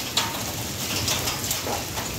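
Hail and rain pour down steadily in Bathi Qaisrani, a dense, continuous hiss of drops and pellets striking the ground, with faint sharper ticks scattered through it and no voices.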